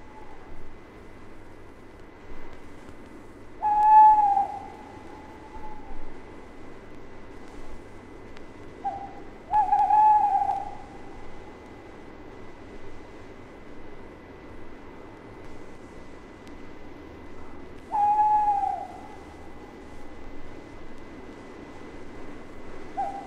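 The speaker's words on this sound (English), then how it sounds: "In October, the tawny owls often hold territories, which they proclaim with their hoots." Tawny owls in British woodland hooting to proclaim territories in October. Three clear, wavering hoots arrive several seconds apart over a quiet, steady background hush.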